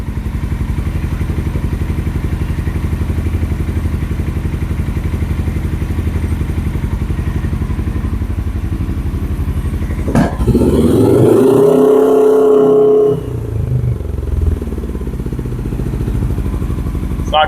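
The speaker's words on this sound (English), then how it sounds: "When it warms up, the engine will rev up along with it" A 2007 Suzuki GS500F motorcycle engine idles on choke while warming up, a steady close pulsing drone, with a brief clatter and a short rise in revs midway before settling back to idle.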